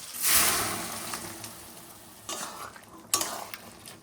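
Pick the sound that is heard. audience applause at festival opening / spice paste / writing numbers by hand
spice paste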